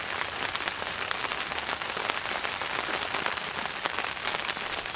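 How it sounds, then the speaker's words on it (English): Heavy rain pours steadily and loudly, a dense hiss of drops drumming on a surface throughout, with no voices. "it's still pouring down with rain on Tuesday"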